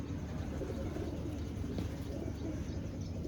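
Soft pigeon cooing blends into a steady, noisy background hum, low and continuous with no clear breaks.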